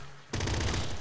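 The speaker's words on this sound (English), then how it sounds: "Triple blood gun." Triple blood gun firing in the Nuclear Throne video game, a sudden dense loud burst of rapid shots that starts abruptly and holds steady for under a second.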